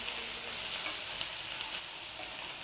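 Okra (bhindi) fries in a pan, giving a soft, even sizzle that holds steady throughout the short stretch, fairly quiet and close with no talking.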